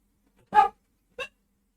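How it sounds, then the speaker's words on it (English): Two short barks from a dog in a quiet indoor room, fairly close, with a pause of about half a second between them and no other sound. "pardon my dogs."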